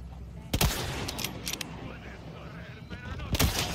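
Several sharp gunshots in the Resident Evil 4 Remake, the Del Lago chapter: one loud blast early, a couple of lighter cracks in the middle and a final loud shot near the end, each standing out over a quiet game background.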